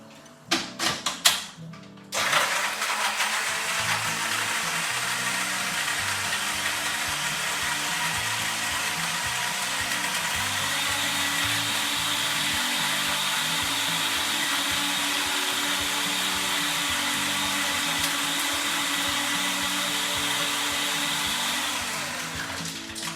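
A blender crushing ice whirs loudly and steadily after a few sharp rattling thunks at the start, its grinding settling into a smooth, constant roar with no talking.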